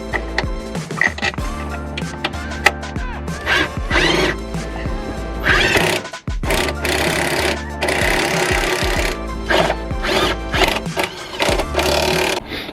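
An impact gun rattles in loud, sustained hammering bursts, tightening polyurethane bush bolts on the front wishbone of a MK2 Ford Focus ST in a close-up workshop setting, with a brief pause partway through.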